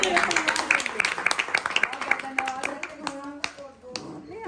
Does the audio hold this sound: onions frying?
no